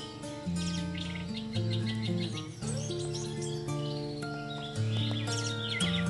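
A red-headed thrush (anis merah) sings loudly and continuously in varied, rich whistled phrases, with overlapping chirps and tweets from other caged birds nearby.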